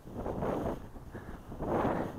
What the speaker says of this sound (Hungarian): muszáj vagyok kiabálni, mert baromira fúj a szél